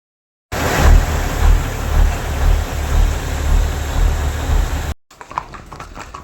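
Horse hooves clip-clop along a trail at the Matheran hill station, a loud, near, rhythmic clatter of steady steps that stops abruptly, leaving faint ambient noise.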